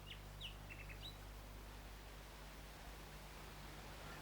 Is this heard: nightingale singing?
yes